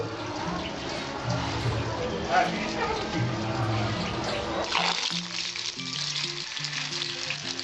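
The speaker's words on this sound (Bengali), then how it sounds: "আমি বড়াগুলো সাজিয়ে নিয়েছি এবার আমি কড়াইয়ে ছাড়ব" Jute leaf fritters sizzle in hot oil in a wok, a steady frying hiss running throughout with some stirring and low background sounds.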